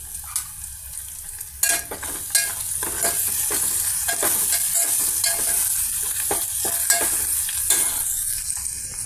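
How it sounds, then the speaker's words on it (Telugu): Onion pieces, ginger and small-onion paste, green chillies, salt and turmeric sizzle in hot oil for a drumstick curry, a steady close fry broken by repeated scraping strokes of a stirring spoon, with no voices. "ఉప్పు, పసుపు, అల్లం చిన్నులపాయల పేస్టు, పెద్దల్లిపాయ పీసెస్, పచ్చిమిర్చి అండి, ఆయిల్తో ఈ విధంగా ఫ్రై అవుతున్నాయండి."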